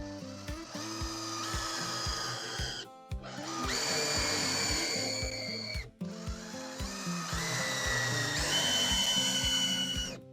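A power drill pre-drills holes for a greenhouse gable vent in three loud, whining bursts with rising pitch, separated by brief pauses.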